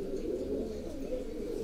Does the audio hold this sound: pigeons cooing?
yes